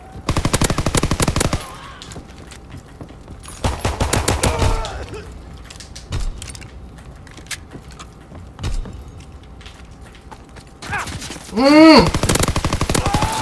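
PPSh submachine gun bursts in Call of Duty WW2, rapid-fire rattling volleys opening the stretch and returning in the middle, with quieter footsteps, handling noises and a spoken exclamation between them.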